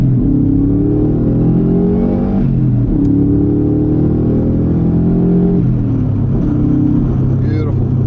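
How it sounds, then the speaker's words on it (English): A Subaru Impreza STI V2 555 edition's boxer engine, paired with a five-speed gearbox, revs hard under acceleration from inside the car, its pitch climbing through repeated upshifts with brief dips between gears. A voice talks over the engine note. "Let's have a listen to this beautiful boxer engine"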